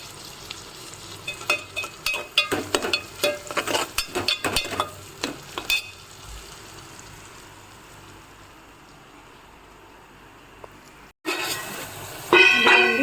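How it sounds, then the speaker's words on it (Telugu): Tomatoes frying in a pan for dried prawn gongura curry, a run of rapid clattering stirring strokes over a low sizzle, then a quieter stretch of soft frying before a sudden louder burst near the end. "టమాటాలు కూడా వేసాను. వేసినాక మగ్గుతూ ఉందన్నమాట."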